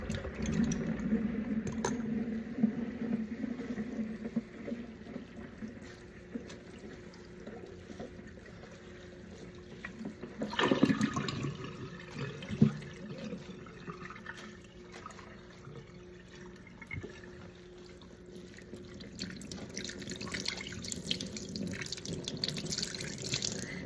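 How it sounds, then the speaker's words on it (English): Water dripping and trickling as excess water is squeezed out of a soaked crochet wrap, faint close splashes and drips with a stronger gush midway, no talking. "And I'm gonna just try to squeeze out the excess water."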